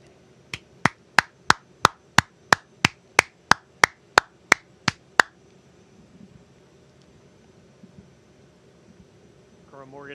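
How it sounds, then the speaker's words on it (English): A run of about fourteen sharp, evenly spaced claps, loud and isolated, from applause at an Army recruit swearing-in ceremony, stops abruptly; faint background murmur follows. "Let's give an enormous round of applause to these great Americans"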